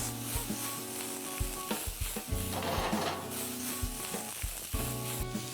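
Bell peppers and spring onions tossed in a sizzling pan: a loud continuous sizzle broken by a few clattering knocks and scrapes of utensil on metal, close up, no talking.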